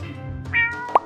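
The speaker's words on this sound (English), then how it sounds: "Cat. It's a cat." A cat gives one short, clear meow up close, followed by a brief high plop-like chirp, alone over a faint low background.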